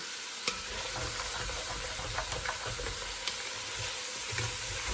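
Vegetables for pepper steak sizzle and fry steadily in a pan over medium-high heat, a constant hiss with a few soft clinks and stirring scrapes, no voices.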